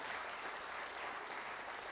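A conference audience in Kenya applauds steadily, a dense, continuous wash of many hands clapping at once that holds evenly throughout with no voices over it.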